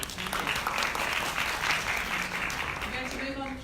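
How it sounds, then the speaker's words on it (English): An audience claps for a presenter at a health conference session, dense steady applause lasting a few seconds, moderately close. "Can we give her a round of applause?"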